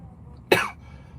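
A single sharp cough, close and brief, against a quiet background.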